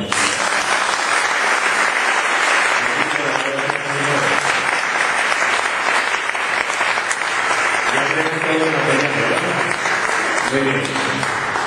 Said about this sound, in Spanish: Denle un aplauso a la Madre